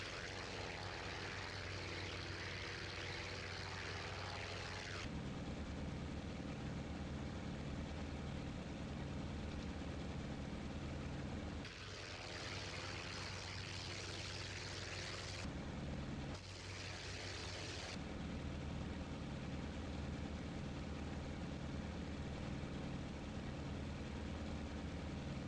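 Mitsubishi A6M Zero propeller fighter engine from the flight sim IL-2 Sturmovik 1946, a continuous loud droning roar with steady harmonics, briefly changing pitch and texture a few times as throttle shifts, with no voices.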